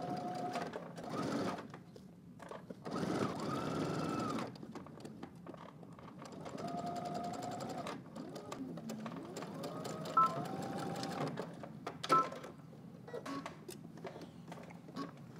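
A sewing machine stitches a jeans seam with backstitching, running in several short bursts of whirring needle action separated by brief pauses, close and fairly quiet.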